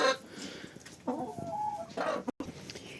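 Chickens clucking close by on a farm, a few short throaty clucks and a drawn-out cackle, fairly quiet with a faint murmur of background noise.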